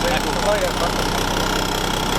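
A vintage Fiat 643 N truck engine idles steadily with a low, continuous rumble throughout, while voices talk over it.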